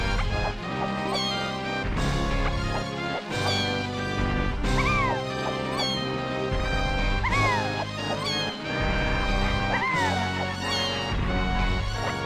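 Cartoonish cat meows from the video game Donkey Kong 64, repeated rising-and-falling calls every couple of seconds over a loud, continuous game music loop with thumping beats.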